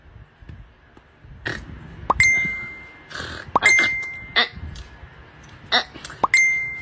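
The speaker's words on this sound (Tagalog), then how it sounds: "Bakit ring ng ring tong cellphone ko?" Short electronic notification pings from a cellphone sound again and again in quick bursts, each a bright tone with a faint echo, separated by brief gaps of quiet room noise at night.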